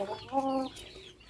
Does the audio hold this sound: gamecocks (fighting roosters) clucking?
yes